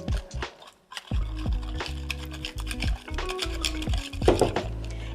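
Mashed sweet potato mixed with crystallized ginger in a bowl: a utensil scrapes and clinks against the bowl in quick, uneven strokes, close and fairly loud, with no voices.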